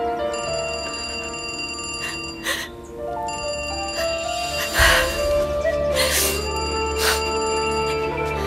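A telephone rings out loudly and close by in a repeating tonal ring pattern, with a thump partway through and no talking.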